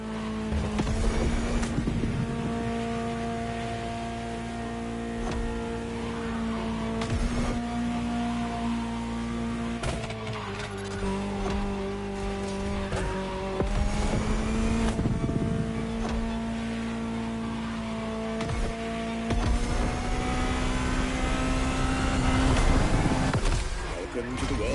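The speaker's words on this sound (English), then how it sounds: "Just listen to the car you're driving." Ferrari supercar engine in The Crew Motorfest, a sustained droning engine note that shifts pitch with gear changes, running under a man's speech throughout.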